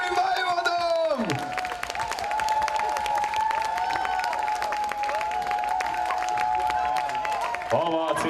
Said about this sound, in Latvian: Ovācijas nebeidz rimt aplausi